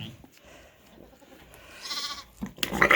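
Sheep ewe and her lambs bleating on a farm during lambing season, with faint quiet background at first, then a clear bleat and louder, sharper calls close by at the end.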